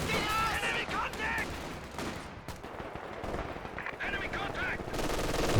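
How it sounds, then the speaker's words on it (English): MG42 machine gun fire in the World War II strategy game Company of Heroes 2, during a 2v2 match: rapid bursts rattle continuously over other battle noise while a commentator talks over them. "Got a machine gun covering the retreat path a bit, stopping any further chase."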